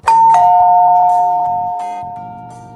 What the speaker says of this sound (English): The doorbell rang.